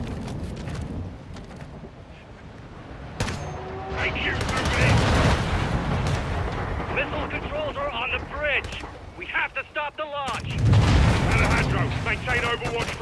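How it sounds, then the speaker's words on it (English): Gunfight in Call of Duty Modern Warfare 2 aboard a rocking ship among shifting cargo containers: loud, sustained bursts of automatic rifle fire and booming shots, with a voice talking in between. "Let's have ourselves a gunfight!"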